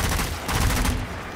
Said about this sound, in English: Why is this zombie shooting me?